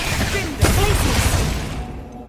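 A Stupefy spell fired in Hogwarts Legacy, a sharp magical burst followed by a rumbling blast, heard amid combat noise and a voice.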